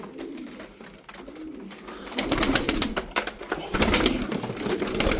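Tumbler pigeons coo softly in a loft, low throaty rolling calls close by, joined midway by louder rustling and wing flutters from the birds.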